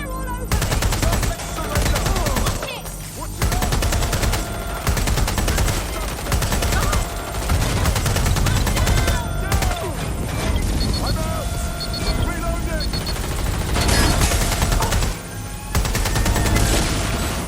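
Heavy automatic gunfire rattles almost nonstop during a firefight in Watch Dogs Legion, loud and dense, mixed with shouted voice lines and other battle noise.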